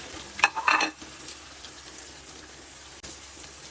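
Masala roasts in a pan for stuffed bitter gourd, with a soft continuous sizzle and a few sharp stirring scrapes near the start that then give way to a quieter hiss.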